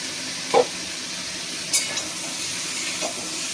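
Onions and capsicum fry with spices in a pan, a steady soft sizzle with a few brief scrape-and-stir knocks from a spoon at intervals.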